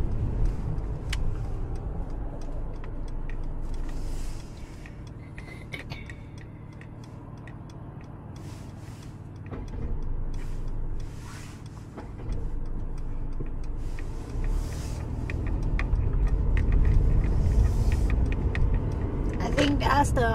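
A car driving along a road in Las Vegas, heard from inside as a steady low engine and road rumble with faint ticking, while a voice talks over it.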